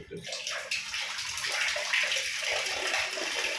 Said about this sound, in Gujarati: આ હવે પાણી ચાલુ થઈ ગયું છે, બરાબર. પાણી ચાલુ થઈ ગયું.